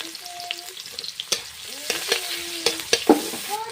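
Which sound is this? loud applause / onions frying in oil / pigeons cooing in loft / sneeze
onions frying in oil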